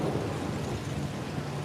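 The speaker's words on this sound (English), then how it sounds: "I'm getting rained on" Steady rain falling close by outdoors during a drive along a road, a dense even hiss with low rumbling underneath, unbroken for the whole moment and with no one talking.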